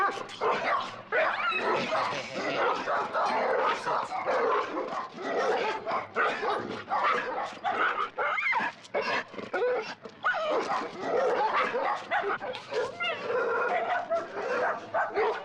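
A pack of dogs reacts during a training session, barking, yipping and whimpering in a dense, agitated chorus that keeps going in bursts. A person's voice can be heard faintly under the noise.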